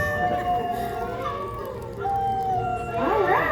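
Recorded howls of captive canids play back, wavering, rising and falling tones over a steady background hum and faint voices, eerie and whale-like.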